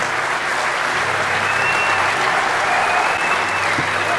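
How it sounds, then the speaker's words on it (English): A large conference audience at the DEFCON 20 hacker convention breaks into a dense, sustained round of applause, a steady wash of many clapping hands that fills the whole stretch without letting up. "Let's hear a round of applause."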